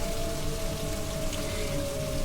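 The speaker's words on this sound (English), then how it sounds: "It's been storming fucking constantly." Steady rain pours during a storm, a dense, even hiss of drops hitting surfaces close by, fairly quiet overall and continuing without a break, with no voices.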